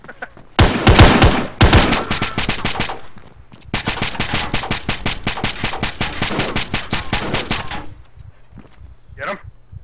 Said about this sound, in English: I'm gonna put another two rounds up in the window